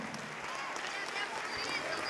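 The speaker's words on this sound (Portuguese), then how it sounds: "Vamos aplaudir mais," A church congregation claps together in a steady, dense wash of applause, moderately loud and continuous, with crowd voices mixed in beneath it.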